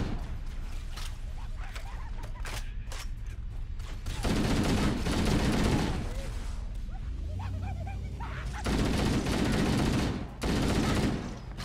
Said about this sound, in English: Is a ship shooting at me?